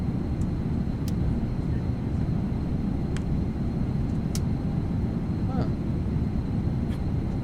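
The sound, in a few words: PMDG 777 cabin engine sound in Microsoft Flight Simulator 2024 video game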